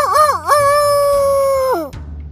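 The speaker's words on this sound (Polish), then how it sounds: "Odpowiedział kogut," A rooster crows once, loud and close, with a wavering rise then a long held tone that drops off sharply, in a rural setting of a Slavic children's story.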